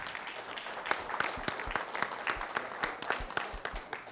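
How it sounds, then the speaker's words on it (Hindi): An audience at a film music release event claps for the film's lead actor, a moderate, uneven patter of individual claps with sharp separate hits, heard from a little distance with no one talking. "प्लीज एक बार जोरदार तालियां हो जाए."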